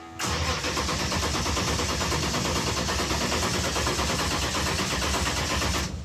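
Hemi-powered Gremmie car cranking over without spark: a steady, loud churning whir from the starter that runs about six seconds and never catches or fires.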